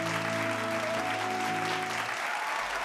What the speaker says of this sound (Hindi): जोरदार तालियां रूपा फ्रंटलाइन लाडली भौजी उर्मिला जी के लिए